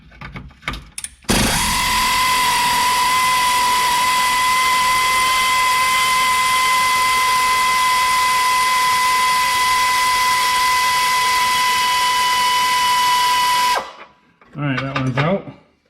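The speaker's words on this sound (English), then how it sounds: "now I'm going to attempt to unbolt these straps that hold the battery in place" A power tool whirs continuously for about twelve seconds while unbolting the straps holding a hidden car battery in place, loud and close with a steady whine, followed by brief metallic rattling.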